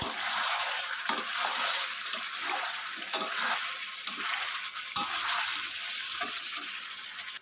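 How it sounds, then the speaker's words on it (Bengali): A chicken and potato curry sizzles loudly in the pot as soaked coriander paste is stirred in, giving a steady close frying hiss punctuated by periodic scraping strokes. "দিয়ে আমি ভালো করে নেড়ে চেড়ে মিশিয়ে নেব"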